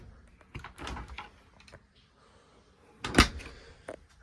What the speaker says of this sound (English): then you can open the door.